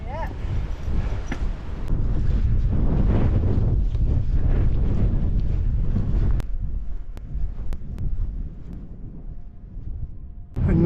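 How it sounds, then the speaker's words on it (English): Strong wind buffeting the microphone on a Lake District fell near Sourmilk Gill, a steady loud roar that rises, holds and then eases slightly. "Getting a bit of a wind coming now."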